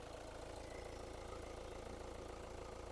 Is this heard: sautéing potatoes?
no